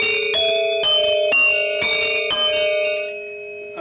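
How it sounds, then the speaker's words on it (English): Gamelan metal keys are struck in succession and left undampened, so their bright bell-like tones overlap and sustain into a shimmering wash that slowly fades. "If you don't dampen them, it just sounds like this."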